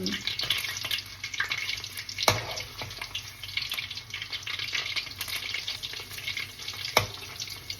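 Red Thai sausages frying in hot oil give a steady, fairly quiet sizzle and crackle, with a few sharp pops and occasional stirring clicks, no talking.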